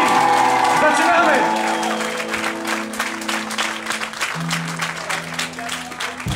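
A concert audience claps and cheers for a debuting band, with dense, steady applause filling the space while lingering musical tones ring underneath.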